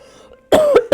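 A person with a cold coughs in two or three loud, close bursts after a quiet stretch of low hum.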